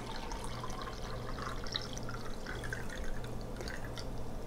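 Liquid pours steadily into a Yeti 12 oz stainless steel mug, a continuous close trickle and splash with a faint low hum underneath, no talking.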